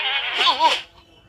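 A single goat bleat, a short wavering call lasting about a second, close and loud, used as a sound effect in a retold Bible story.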